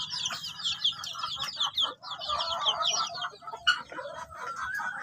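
Chickens cluck and chatter steadily in a brooding area on a Philippine poultry farm, many birds at moderate distance, with soft background shuffling and no talk.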